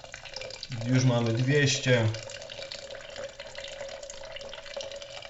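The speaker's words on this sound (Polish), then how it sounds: "Jeszcze troszeczkę sobie doleję tej wody, ponieważ będę pił to w większym kubeczku." Water pours steadily onto Taragüi loose-leaf yerba mate in a deep French press, a soft continuous trickle running under a voice speaking Polish briefly.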